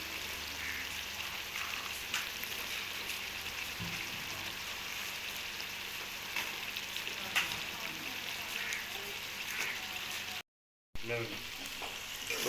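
Peas tipped into browned meat frying in a pot for matar gosht give a steady, dense sizzle with stirring scrapes throughout, broken by a brief silent gap near the end before the frying resumes.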